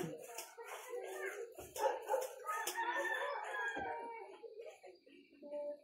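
Busy farmyard chatter of chickens clucking and crowing, with a dog barking now and then and scattered sharp knocks, fairly close and continuous.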